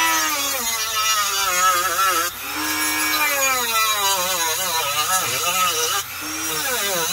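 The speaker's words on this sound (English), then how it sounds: "Always wear eye protection when using a Dremel." A Dremel rotary tool cutting through a PC motherboard: a loud, close, high whine that rises and dips in pitch as the bit bites and eases, broken by two brief drops in load.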